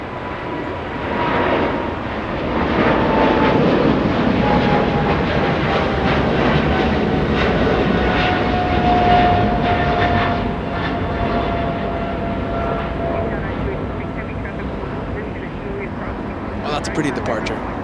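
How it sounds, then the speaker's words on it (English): American Airlines Boeing 777-300 jet lifting off at LAX, a sustained engine roar with a faint whine, rising early and holding steady before slowly fading. "a 777-300 lifting off."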